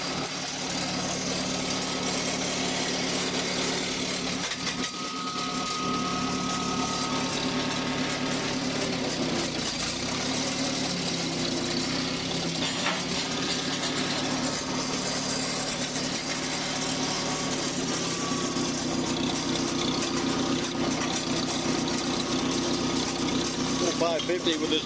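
An Oliver 550 tractor with a loader runs its engine steadily for the whole stretch, a constant, close mechanical rumble, with a person talking over it.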